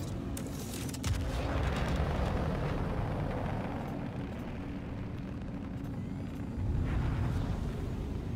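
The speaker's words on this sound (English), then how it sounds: "He is helping, he's shooting missiles." Missiles launch and explode in a video game, with heavy low booms and rumbling blasts recurring through a dense battle roar, the loudest bursts coming near the start and again toward the end.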